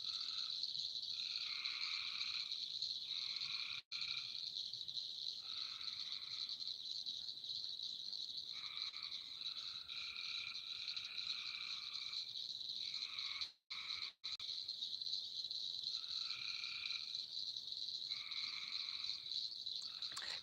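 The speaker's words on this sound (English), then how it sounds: "Y'all hear those frogs?" Frogs croak at night in steady repeating pulsed calls over a constant high insect-like trill, with a couple of brief dropouts, heard from a moderate distance with no talking.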